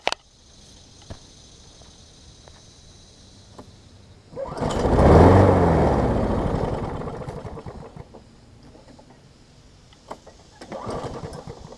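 An older Toro engine is cranked, catches roughly for about four seconds with a loud sputtering roar, then dies, leaving near quiet broken by a few faint clicks.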